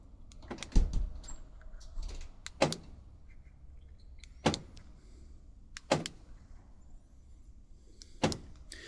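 Rear door locks on a Renault Scenic 2 actuating when tested, with about six separate sharp mechanical clunks spaced a second or two apart over a quiet background.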